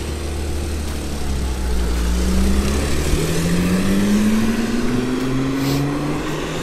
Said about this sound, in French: Ah, la Venturi qui s'en va.